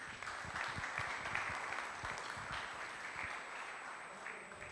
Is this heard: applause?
yes